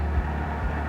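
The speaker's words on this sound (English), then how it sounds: "You can hear it clunking away in the background." A spinner unit whirs with a steady, close mechanical rumble, and two dull low clunks knock through it about half a second apart, with no voices.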